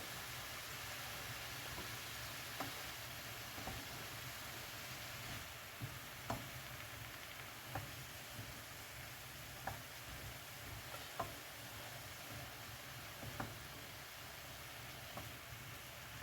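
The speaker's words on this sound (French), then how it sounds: "Juste les faire revenir un petit peu." Mushrooms sizzle softly and steadily in a pan while a utensil scrapes and taps them at irregular intervals, close by with no talking.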